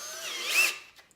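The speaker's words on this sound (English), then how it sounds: "It's aluminum, so it's really not that hard to drill, but we're asking a lot of these step bits" A step drill bit boring a hole in aluminum during a budget twin-turbo LS engine build: a single whining, rising bite of the bit into the metal that tapers off after about a second.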